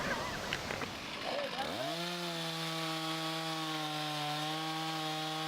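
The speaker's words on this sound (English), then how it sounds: "running his 460 steel, dropping a large aspen tree. He's cutting into the tree" A Stihl 460 chainsaw cuts into a large aspen tree. Rough, buzzy cutting noise with chatter gives way to a loud, steady engine drone at nearly constant pitch.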